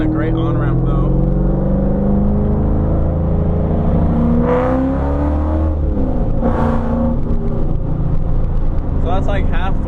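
An 05-09 Ford Mustang with an aftermarket exhaust pulls onto a freeway at light quarter throttle, its deep engine drone rising steadily as it accelerates, heard from inside the car with wind noise.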